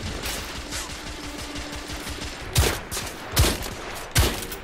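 Gunfire in The Order: 1886 starts as a rapid rattling burst, then three heavy, evenly spaced shots boom out close and loud, without talking.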